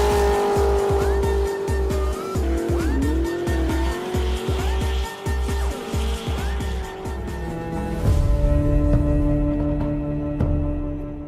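A racing car driven hard with tires squealing, engine revving and shifting through a long skid at close range, loud and continuous with rising and falling engine pitch.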